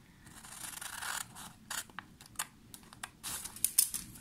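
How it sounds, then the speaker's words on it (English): Scissors cut through a sheet of paper while a zine is being made, giving quiet, close, irregular snips and crisp paper rustles spread across the moment, with faint background between cuts. "get a pair of scissors because we will need to cut"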